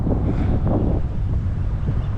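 Strong wind of about 15 to 16 mph, gusting to 25, buffets the microphone from a kayak in Florida in a continuous low roar, surging in gusts, with faint water sounds underneath.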